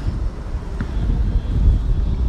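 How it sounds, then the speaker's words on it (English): Steady low wind rumble buffeting the microphone outdoors, a continuous noisy roar with no voices. "It's a little windy out here."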